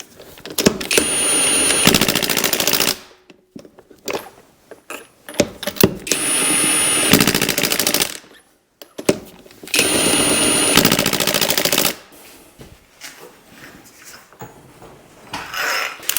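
A Hercules brushless impact wrench set to its lowest setting hammers a rear shock bolt on a 2002-2007 Jeep Liberty, three loud rattling bursts of a couple of seconds each separated by pauses, then quieter handling noise.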